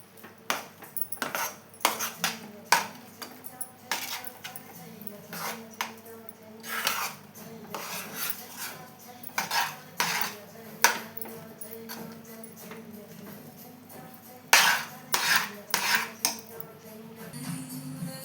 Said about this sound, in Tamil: இப்போ ஒரு 2 நிமிஷம் நெய் ஸ்மெல் போகிற வரைக்கும் நல்லா கலந்து விட்டுக்கலாம்